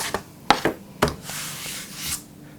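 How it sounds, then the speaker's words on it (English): Clamps are pulled off a wooden electric guitar body in a workshop, giving a few sharp knocks and clicks near 0.5 and 1 second, then a longer scraping rub, all close and with no talking. "The removal of the clamps."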